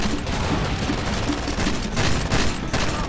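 Dense, continuous gunfire from a Far Cry 2 shooter game rattles loudly and without pause in rapid bursts.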